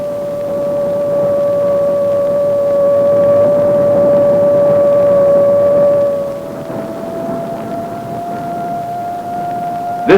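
A steady electronic tone from an AN/PPS-5 ground surveillance radar sounds while tracking a moving Jeep, a loud sustained pure hum that drops and shifts pitch slightly partway through before ending in a short click.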